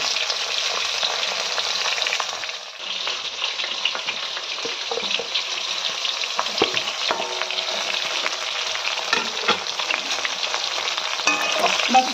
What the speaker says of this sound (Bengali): বেগুনগুলোকে হালকা করে ভেজে নিতে হবে।